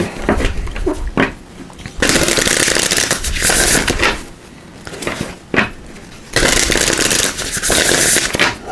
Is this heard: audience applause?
no